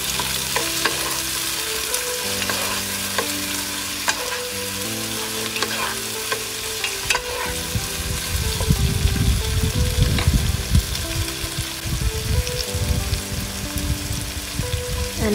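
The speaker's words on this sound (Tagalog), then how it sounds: "Igisam lang muna natin." Ingredients for salmon sinigang sauté in a pan, a steady close sizzle with stirring scrapes that grows louder and more crackly midway, going on without any talking.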